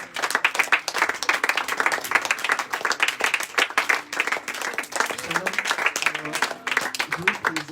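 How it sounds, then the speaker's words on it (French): A church congregation claps steadily and loudly throughout, dense rhythmic applause with voices calling out over it and a speaking voice faintly beneath. "Applaudis."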